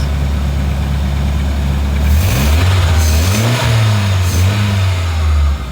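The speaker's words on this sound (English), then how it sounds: "And revving the engine does not change that." A Ford Escort car engine with a failing alternator idles loudly up close, then is revved several times in quick succession, the pitch rising and falling with each blip before settling back to idle.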